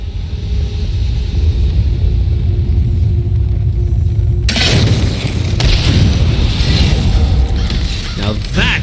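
Ballista blast clearing a path in the fantasy video game Elder Scrolls Online, a sudden loud boom bursting over a steady low rumble, then a sustained roaring crash with debris-like crackle.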